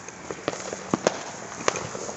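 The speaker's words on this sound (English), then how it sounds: "Ah, fireworks now." Fourth of July fireworks and firecrackers go off outdoors in a scattered series of sharp cracks and pops, irregular and moderately distant, over a steady background hiss.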